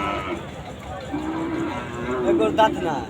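Cattle, including bulls, at a busy village cattle market in Chandaikona, with one drawn-out low moo rising and ending in a brief higher call, heard amid crowd murmur and background voices.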